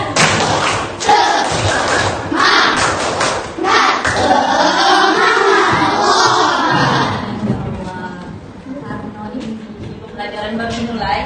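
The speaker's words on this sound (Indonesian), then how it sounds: "Tepuk semangat." A primary school class at an Islamic school does a rhythmic spirit clap, with loud bursts of clapping from many hands mixed with the children's chanting voices, tapering off toward the end.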